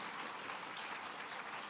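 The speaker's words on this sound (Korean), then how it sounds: "박수 좀 쳐주세요." A crowd claps at a church gathering, a brief, fairly faint wash of applause heard from a distance, even and continuous without any voices over it.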